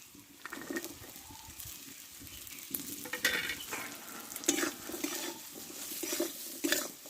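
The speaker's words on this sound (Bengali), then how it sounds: "এই আলুটা ভালো করে কষে নেব মশলার সঙ্গে" Small, thinly cut potato pieces sauté with spices in a pan, scraped and stirred in irregular bursts over a soft sizzle. Scrapes and clatter grow busier in the second half, with no voices.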